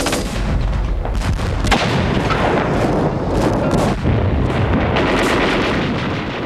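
Gunfire and artillery fire roar through a World War II Pacific island battle involving troops from British India, a dense continuous barrage of booms and cracking shots, loud and unbroken throughout.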